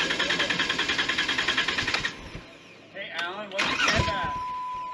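An off-road vehicle engine running rough putters in a fast uneven pulse for two seconds, then gives way to louder mixed noise and voices talking over it.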